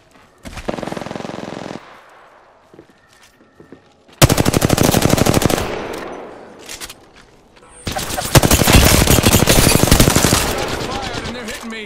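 Automatic gunfire rattles in the Apex Legends battle royale game, three loud sustained bursts of rapid shots with short pauses between them, close and dominant.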